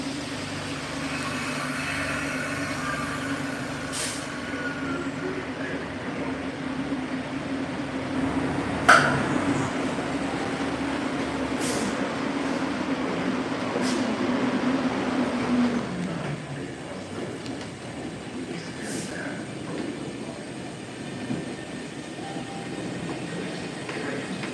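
MBTA Red Line subway train that has broken down, a low steady rumble and hum with occasional metallic clicks and clanks, plus a brief wheel squeal partway through, heard from nearby.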